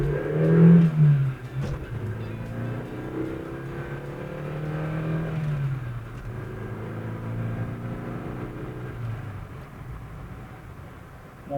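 A 1978 Honda Accord SJ saloon accelerates hard on an empty road during a power test, the engine note rising and pulling steadily from inside the cabin, then settling into an even drone.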